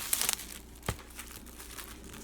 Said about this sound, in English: Let's go ahead and peel that shrink off.